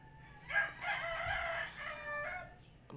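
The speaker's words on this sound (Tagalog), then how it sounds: "Ingay ng mga manok." A rooster crows loudly at close range, one drawn-out cock-a-doodle-doo call over soft clucking from other chickens in a farmyard.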